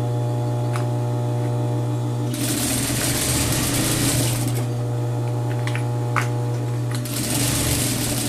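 A sewing machine stitches the crotch seam of shorts at one centimetre, running with a steady motor buzz and two louder bursts of stitching over a constant mains hum, close and with no talking.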